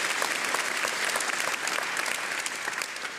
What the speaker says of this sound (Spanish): Aplaudan la palabra de Dios